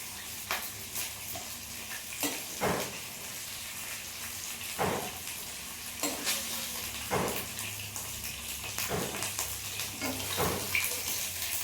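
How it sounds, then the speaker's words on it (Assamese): Snakehead murrel fish fries in a pan with a continuous sizzle, broken by repeated scraping and stirring strokes every second or two. "এনেকুৱাকৈ ভাজিছোঁ আৰু"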